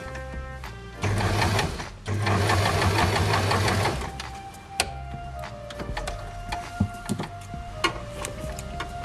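A sewing machine stitches piping onto a fabric bag in two bursts of fast, steady mechanical whirring, followed by quieter clicks and handling noises as the stitching ends.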